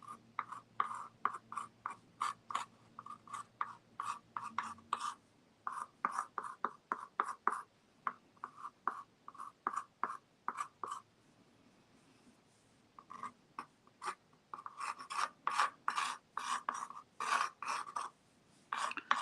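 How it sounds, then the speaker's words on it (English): A pencil sketches a Christmas angel and manger on paper in quick, scratchy strokes, close and crisp, in bursts with a short pause midway and a faint low hum early on. "We're just doing some sketching"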